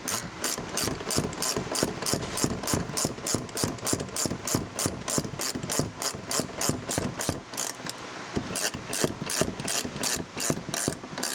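Ratchet wrench tightening the shock absorber bolts on a 2006 GMC truck during a 6-inch lift install, giving a steady run of rapid, close, crisp clicking strokes with no talk.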